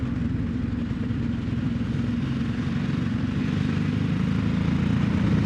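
A Ducati Desert X motorcycle engine drones steadily while riding in fifth gear, a continuous low, throbbing hum mixed with wind noise and no voices.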